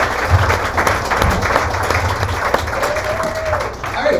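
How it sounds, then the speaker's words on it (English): Bar audience at a casual astronomy talk night giving a round of applause, dense and loud clapping with a murmur of crowd voices underneath throughout. "One more round of applause for Jeniveve"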